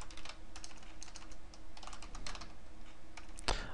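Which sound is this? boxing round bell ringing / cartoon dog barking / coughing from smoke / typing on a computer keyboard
typing on a computer keyboard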